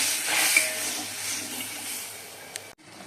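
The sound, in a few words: spice paste of poppy seed, mustard and coconut frying in oil in a wok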